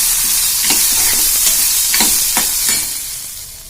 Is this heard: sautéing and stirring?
yes